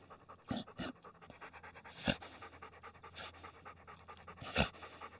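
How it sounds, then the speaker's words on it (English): Soft, slow breathing in a yoga session, a few audible breaths with short quiet gaps, faint and close, no talk. "Let's take 3 rounds of breath together."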